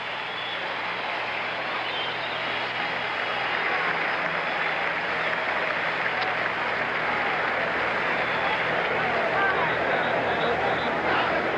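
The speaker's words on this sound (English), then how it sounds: "Well-deserved big round of applause for one of the outstanding college bands of the nation." A huge stadium crowd at the 1977 Alabama–Nebraska college football game roars and applauds a college marching band, a continuous, loud, distant wash of clapping and cheering that holds steady throughout.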